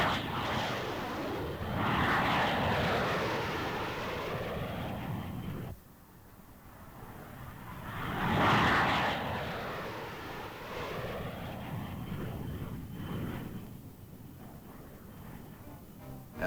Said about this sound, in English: Friendly jets from a nearby airbase give the unit's gun crews realistic experience in